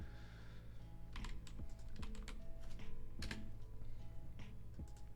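Several sharp mouse and keyboard clicks on a computer while choosing a move in a competitive Pokémon battle, spaced irregularly over a steady background hum, close and fairly crisp.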